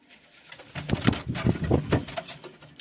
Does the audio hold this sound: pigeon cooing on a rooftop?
yes